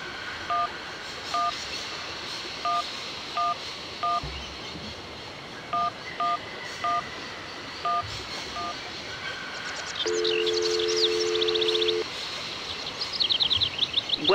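A mobile phone number is dialed in the video game Syberia as a series of short, evenly clipped DTMF tone pairs in two quick bursts. A longer steady tone follows, and faint chirping rises near the end.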